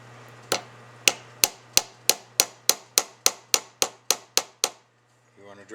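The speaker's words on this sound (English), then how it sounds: "Down inside, and just tap on that rivet." A hammer taps a rivet down while a new rubber plate is fitted to a valve, giving about a dozen sharp, evenly spaced metallic taps in a steady rhythm over a low hum, then a brief soft rustle.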